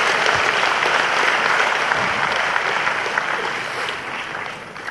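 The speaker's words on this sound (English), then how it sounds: "Let's give them a round of applause as they do that." A debate hall audience applauds the presidential candidates with steady, full clapping that holds evenly and fades slightly near the end.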